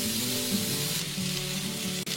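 Skewered hariyali chicken kabab, brushed with butter and turned during cooking, sizzles in a steady, dense hiss that holds loud and close throughout, with no voices.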